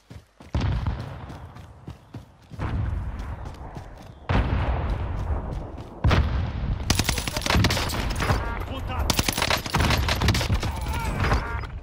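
Gunfire in the Call of Duty Vanguard Warzone battle royale game, with dense bursts of automatic weapon shots and heavy impacts that grow faster and sharper toward the end, alongside loud in-game effects.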